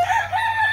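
A rooster crows once, close and loud, a short, bright, wavering call cut off partway through.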